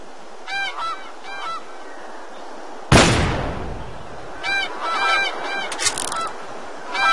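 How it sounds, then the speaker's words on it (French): In the video game Cabela's Dangerous Hunts, several bursts of wild goose honking, a loud sharp gunshot cracking in the middle, then more honking calls from a flock. "Voilà un vol d'oie sauvage."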